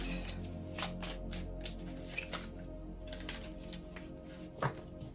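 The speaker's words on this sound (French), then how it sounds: "on va tirer ensuite l'oracle des amoureux, si j'arrive à le mélanger" A deck of oracle cards being shuffled by hand gives soft, repeated riffling and papery flicks, quiet and close, with no talking.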